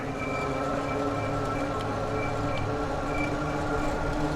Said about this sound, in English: It's a little bit of brake noise there.